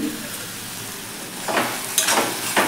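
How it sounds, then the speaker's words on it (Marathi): Pumpkin sabzi frying in a pan is stirred, a constant close sizzle broken by a few quick scraping stir strokes toward the end. "मध्ये आधी हलवत राहायचं आहे, त्यामुळे करपणार देखील नाही"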